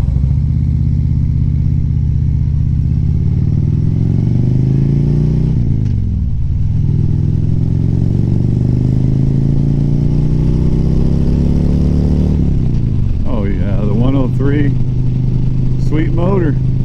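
A Harley-Davidson Road Glide with a 103 engine runs loud and close while riding a canyon road, its deep rumble rising and falling as it accelerates and shifts, with someone talking over it.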